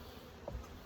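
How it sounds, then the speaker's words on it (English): Honey bees buzz faintly on top of a hive, a brief soft drone with one bee passing close for a moment. "We got a few bees just hanging out on top, which is always a good sign."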